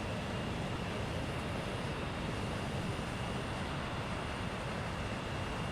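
An Avro Vulcan bomber taxiing in a flight simulator gives a steady, loud, broadband engine roar with a constant high whine, unbroken throughout with no talking.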